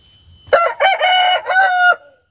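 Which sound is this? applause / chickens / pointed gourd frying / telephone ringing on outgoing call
chickens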